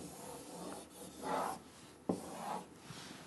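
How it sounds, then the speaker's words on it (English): Eraser swept across a chalkboard during a classroom lesson, with several broad, breathy rubbing strokes at close range, rising and fading one after another, and one sharper knock as the eraser meets the board. "Let's erase the board here."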